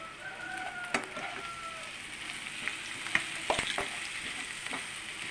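Spices and chilli powder frying in oil in a pan, a soft continuous sizzle with a few sharp spatula taps and stirs, fairly quiet and close.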